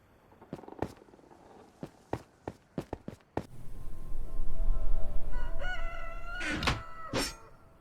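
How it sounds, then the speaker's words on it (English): In the video game Minecraft, a morning rooster crows twice near the end, a loud, tonal call rising over a low rumble, after a run of sharp, evenly spaced clicks or footsteps. "that's the sound of the morning rooster"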